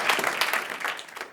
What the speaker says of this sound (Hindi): भाई मेरे म्यूजिशियंस के लिए जरा तालियां हो जाए यार।